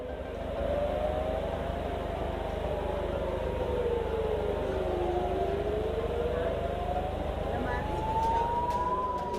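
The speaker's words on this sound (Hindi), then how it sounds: "उत्तरी इलाके में लगातार हवाई हमलों के सायरन बज रहे हैं" Air raid sirens wail across northern Israel, a steady rising and falling tone sweeping slowly over a constant hum, continuous and somewhat distant.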